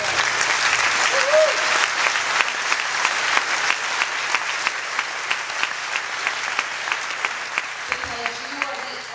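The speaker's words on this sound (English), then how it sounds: "Give yourselves a big round of applause." A large crowd at a camp leaders' night talk applauds steadily, a dense wash of clapping with sharp individual claps standing out, fading slightly toward the end.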